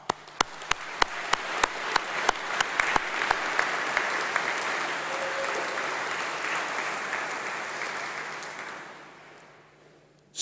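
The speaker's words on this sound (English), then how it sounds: "let's give a round of applause and a huge cheer to say thank you for all the supporters" Audience at a university graduation ceremony breaking into sustained applause, a few sharp near claps at the start swelling into a broad, even roar from a large hall that fades out after about ten seconds.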